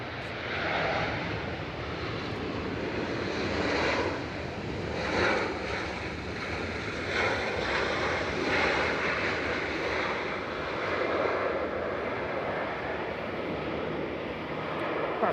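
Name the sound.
British Airways plane landing at Manchester from Heathrow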